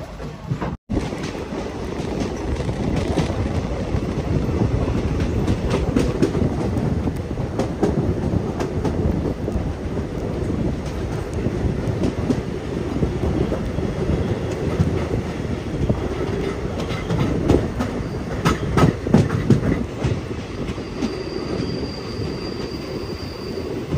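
Poorna Express sleeper-class train running on rails after leaving Madgaon station, with steady close rumble and rhythmic clickety-clack of wheels throughout, occasional brief squeals and clanks.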